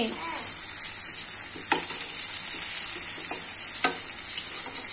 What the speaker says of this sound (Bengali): আর গরম গরম বেগুনি ভাজি